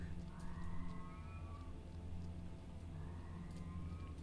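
A cat howls in another room within a video game, giving two drawn-out rising wails separated by a pause, faint and distant over a low steady background hum.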